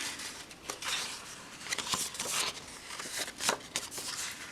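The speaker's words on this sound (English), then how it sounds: "So now we're going to fold it." Cardstock for an accordion-fold Christmas card is creased and folded by hand, giving soft, close papery crackles and rustles with a few sharper flicks, quiet throughout.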